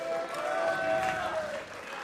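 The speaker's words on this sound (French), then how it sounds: "On peut applaudir." Audience applause for robot teams at a SwissEurobot 2017 robotics contest round, a steady dense wash of clapping sustained throughout, with faint tonal hum and a voice briefly audible underneath.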